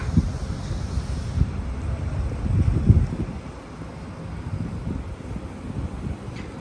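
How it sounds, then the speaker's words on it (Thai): Strong cold-season wind in Ubon buffeting a microphone outdoors beside a white Honda City Hatchback SV, a continuous low roaring rumble with gusty surges, loudest around the third second. "ลมค่อนข้างแรงค่ะ"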